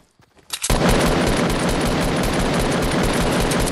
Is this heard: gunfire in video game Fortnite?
yes